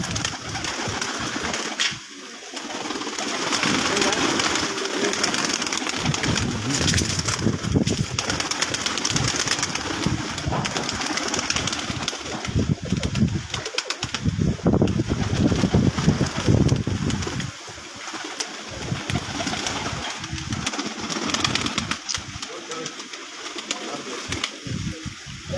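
Red-eyed pigeons coo repeatedly on a rooftop against a constant rushing outdoor background, with brief quieter gaps.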